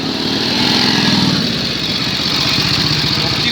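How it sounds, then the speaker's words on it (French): A US Army Harley-Davidson military motorcycle from the WWII era runs at a steady, loud, close idle in a war commemoration parade, its thumping engine pulse continuous throughout. "typique de l'armée américaine, la moto Harley-Davidson"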